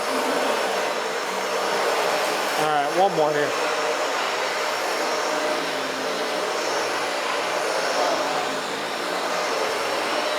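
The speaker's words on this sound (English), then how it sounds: "Yeah, the vacuum will move it." A vacuum cleaner runs indoors with a steady, even whooshing drone that continues throughout, while a person speaks briefly partway through.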